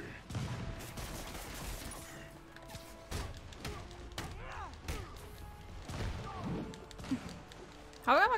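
Enemy gunfire in the Spider-Man video game: scattered shots and dull thuds with game ambience and faint background chatter, fairly quiet apart from a louder burst at the end.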